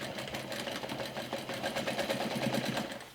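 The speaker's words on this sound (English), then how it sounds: "So I'll just go ahead and stitch the top closed" Sewing machine running steadily at close range while stitching the top of a small lined Minni backpack closed, a continuous busy mechanical whir with fast rhythmic needle ticks throughout.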